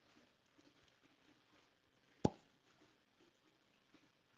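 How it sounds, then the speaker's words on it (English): A single sharp cork pop from a George Dickel whisky bottle, close and loud against a near-silent quiet room, with a few faint soft taps around it. "Beautiful, beautiful cork pop. Love those cork pops like that."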